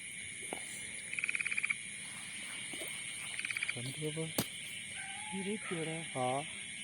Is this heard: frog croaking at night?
yes